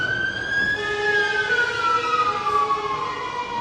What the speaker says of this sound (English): We've got a fire engine passing by at the moment